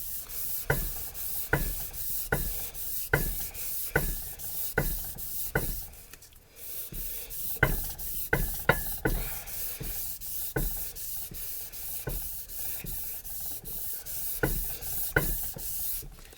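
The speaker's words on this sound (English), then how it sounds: "the reason why I like to sand like this is because I want a nice straight grain going across the head of the rail" Hand sanding across the head of a steel rail from a 1926 DL&W rail restoration: rhythmic back-and-forth scratchy rubbing strokes, close and fairly quiet, repeating steadily with a brief pause midway.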